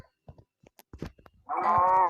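In Minecraft, a cow lets out one loud, drawn-out moo near the end, after a stretch of quiet clicks and faint game noises.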